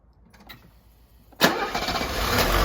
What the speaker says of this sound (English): Now, let's see how it starts.